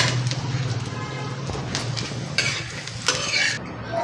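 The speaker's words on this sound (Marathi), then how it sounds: "ह्याच्यात 3 मिरच्या घेतल्यात मी, त्या पण थोड्याशा आपण परतून घेऊया, जास्त नाही" Roasted peanuts and three green chillies toss briefly in a pan, a light sizzle with a few stirring scrapes and metal clinks, short and close.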